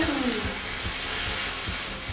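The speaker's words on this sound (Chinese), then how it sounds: "炒到这个肉呢转色为止啊" Chicken strips stir-fried in a hot pan make a loud, steady hiss and sizzle, with rhythmic scraping stirs every fraction of a second close by.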